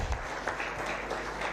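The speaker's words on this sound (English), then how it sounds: "May we give them a round of applause as they go back." An audience applauds schoolchildren from a primary school at a talk show event on ending child labour, a steady dense wash of clapping throughout.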